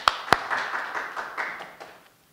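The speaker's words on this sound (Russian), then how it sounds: "Давайте еще раз поприветствуем автора аплодисментами" Audience applause at a book presentation greeting the author, opening with a couple of sharp claps that swell into a brief, moderately loud patter of many hands before fading out.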